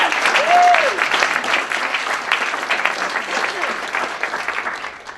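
Applause from an audience at a sustainable agriculture panel discussion, loud continuous clapping that swells at the start and holds steady before easing slightly, with no voices over it.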